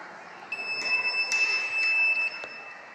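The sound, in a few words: laser security system alarm buzzing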